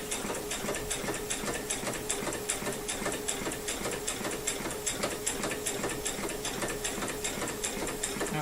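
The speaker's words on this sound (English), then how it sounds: "I'm just going to sew straight down" A sewing machine runs steadily at close range, its rapid needle strokes forming a fast, even mechanical rhythm with no talking.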